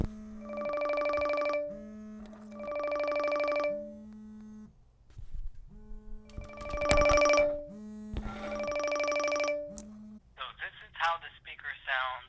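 Incoming call ringing on a Fossil Q Explorist smartwatch, repeated bursts of a warbling electronic ring with short gaps between them, interrupted by a brief clatter of handling, with a voice heard near the end.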